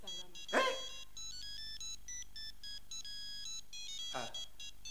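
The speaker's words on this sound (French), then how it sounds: "Mais le portable sonne." A mobile phone ringtone plays as a repeating electronic melody through the clip, with a dog barking or whimpering twice nearby and faint background voices.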